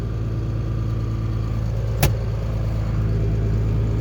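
A tractor pulling a cultivator in a field, a steady low engine drone and rumble held throughout at close range, with one brief sharp clank midway.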